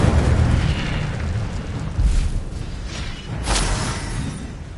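An Incendio fire spell in Hogwarts Legacy bursts as a loud, sustained fiery roar and rumble, with a couple of swelling whooshes rising and falling across its length.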